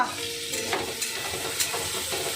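Whole spices sizzle in hot oil for a tempering, a steady close crackling fry with a few sharp pops and stirring scrapes over a few seconds, no speech.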